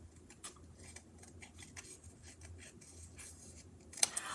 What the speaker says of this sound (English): let's fussy cut this little chomp out of the side of this piece